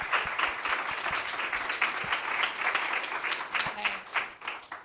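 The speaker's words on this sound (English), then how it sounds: "why don't we give Adam and Lindsay a warm round of applause" A crowd claps steadily in sustained applause, moderately loud and continuous, with a few individual claps standing out near the front.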